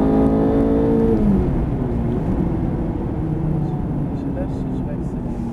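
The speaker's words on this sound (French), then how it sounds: "Là, je réaccélère fort d'un coup pour rétrograder si tu veux." A Ferrari F430 engine is blipped hard for a downshift, a loud rising rev that peaks early and settles into a steady rumbling drone, with a voice talking over it.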